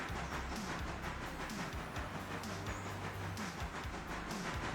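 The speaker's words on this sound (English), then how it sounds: "while this locomotive is moving" A locomotive rolls along in a train simulator game, a steady low rumble and mechanical hum running throughout with faint rhythmic rail clatter, fairly constant in level and without talk.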